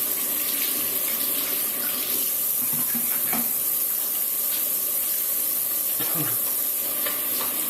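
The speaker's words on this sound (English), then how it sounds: "Wash my hands." Water runs steadily from a tap while hands are washed at a sink, a continuous close splashing hiss with faint clinks and movement through it.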